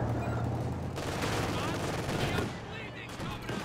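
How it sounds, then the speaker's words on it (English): Rapid machine gun bursts in Company of Heroes 2, a dense, continuous rattle of gunfire mixed with other battlefield shots, loud and sustained across the whole stretch with a voice talking over it. "Machine gun also chipping in here."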